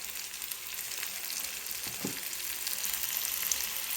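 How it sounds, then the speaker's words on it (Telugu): Ginger garlic paste frying with tomatoes in a pan for chicken curry gives a steady, close sizzle with a brief stir partway through and no talking. "పచ్చివాసన పోయేంత వరకు బాగా ఫ్రై చేసుకోవాలి."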